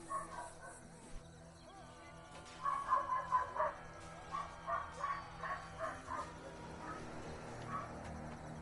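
A dog barks in the medieval combat game Chivalry 2, a run of quick, mid-distance yips and bow-wows in the middle, repeating in a loose rhythm over quiet background game ambience.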